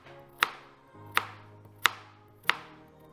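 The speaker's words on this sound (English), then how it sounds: "Now we're gonna cut them in rounds." A knife slicing carrots into rounds on a cutting board, four crisp evenly spaced chops close up in a quiet kitchen, with no talking.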